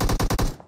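A rapid automatic burst of about five gunshots in the game PUBG Mobile, loud and close, cut off sharply with a brief fading tail.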